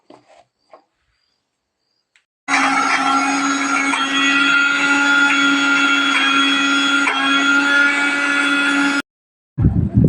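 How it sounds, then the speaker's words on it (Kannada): An electric mixer grinder whirs loudly and steadily for about six seconds while grinding ingredients for brinjal bharta, starting abruptly after a quiet stretch of faint handling clicks and stopping just as suddenly. "ಇವನ್ನೆಲ್ಲನೂ ಇಂಗ್ರೀಡಿಯೆಂಟ್ಸ್ ಹಾಕ್ಕೊಂಡು ಒಂದು 2 ರೌಂಡು ಮಿಕ್ಸಿಗೆ ಹಾಕ್ಕೊಂಬಿಡೋಣ"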